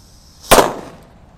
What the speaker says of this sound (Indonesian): Kita nyalakan mercon kera raja yang sudah dibuntel ini.